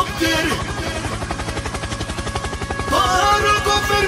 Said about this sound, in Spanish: ¡Helicóptero, helicóptero!